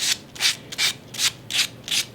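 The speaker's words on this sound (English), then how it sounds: "I try to find where the grain is lifted up a little bit and do a light sanding" Light hand sanding across the grain of a wooden pet name sign between polyurethane coats, six even back-and-forth rasping strokes, close and crisp with no talk.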